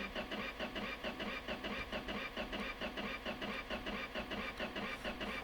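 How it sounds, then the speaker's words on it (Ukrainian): A Lada Niva engine, started in a field during repairs, runs with a steady, rhythmic mid-pitched chug, close and loud throughout with no talking. "Ну що, запускаємо наш двигун."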